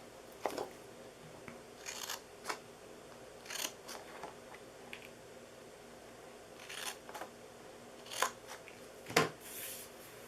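Scissors cutting into the sides of a paper box for a cup-of-tea treat box: scattered, faint snips and crisp crunches at irregular intervals over a quiet background.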